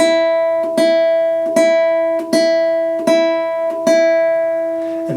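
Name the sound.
guitar string plucked alternating index and middle finger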